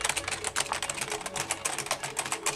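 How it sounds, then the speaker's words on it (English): Rapid, continuous key clatter from a Magic Eagle computer keyboard with light-up LEDs, close and crisp, with dense uneven keystrokes running throughout and no voices. "you got my Magic Eagle keyboard, and with light up LEDs. It's a really nice keyboard. It sounds really nice too."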